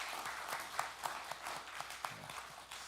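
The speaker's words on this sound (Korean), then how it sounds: "먼저 박수하시겠습니다." Light, scattered applause from a small church congregation during a Sunday service, a few distinct claps standing out, fairly soft and brief.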